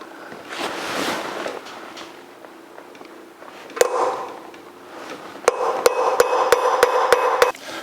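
A hammer strikes a punch to mark the flywheel and crankshaft of a 1982 Jeep CJ7 engine. One sharp metallic blow lands alone, then a quick run of about seven close, ringing strikes follows.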